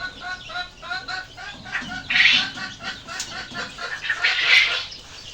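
Laying hens cluck in a poultry shed, a steady chorus of repeated clucks with occasional louder squawks and a brief wing flutter, fairly close and with no talk over them.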